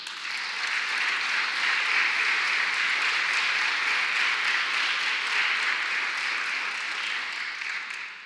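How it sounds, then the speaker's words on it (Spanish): Steady applause from an audience at a Catholic talk on the culture of life, a continuous even wash of clapping lasting about eight seconds, moderately loud and heard alone. "Vamos a darle un aplauso."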